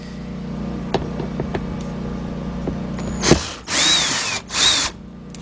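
A power drill removing T20 Torx screws from the left headlight assembly of a 2007 Volkswagen Passat 2.0 whirs in two short close bursts near the end, after a steady background hum and a few light clicks.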